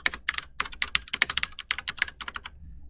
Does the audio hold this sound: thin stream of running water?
no